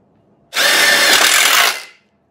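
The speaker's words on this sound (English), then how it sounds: "You're going to use a number 3 Phillips that gives it a nice solid grip in drilling these in, like so." A cordless power drill with a number 3 Phillips bit drives a stainless self-tapping screw into a metal horizontal fence channel, one loud close whirring burst of about a second and a half that winds down at the end.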